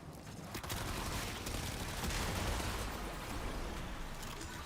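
Sustained assault rifle fire in Warframe, a dense continuous burst of rapid shots running loud and steady for several seconds with no talk over it.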